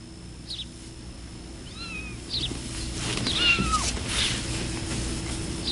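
A cat gives several thin, rising meows in quick succession over a faint background hum, moderately close and fairly quiet.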